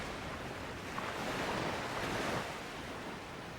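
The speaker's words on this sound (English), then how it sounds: "the surf pounds the east coast of New Zealand" Surf pounding the east coast of New Zealand: a broad, continuous roar of breaking waves that swells slightly in the middle, with wind across the microphone and no voices.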